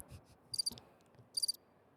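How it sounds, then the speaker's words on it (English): Crickets chirp in two short clusters of rapid pulses, high-pitched and faint against a quiet background. "You need like a sound for like the cricket?"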